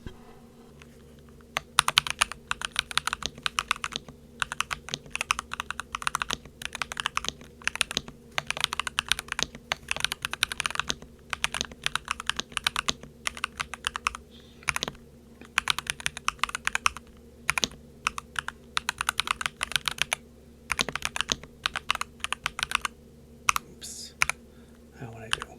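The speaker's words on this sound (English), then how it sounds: "Everything else will be muted, so you'll just be hearing the keyboard sounds." Someone types on a NuPhy Halo96 keyboard fitted with Baby Racoon switches, producing rapid bursts of close, crisp clacks separated by short pauses, over a low steady hum.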